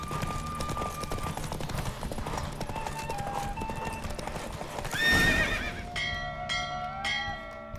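Rapid clip-clop of galloping hooves with a horse's whinny during a horse race in The Witcher 3, over a busy game soundtrack; a bright chiming swell rises near the end.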